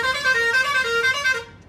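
Vehicle horn honking in repeated bursts close by on a road through a busy market in Punjab, with livestock nearby, the loud pulsing tones fading out at the end.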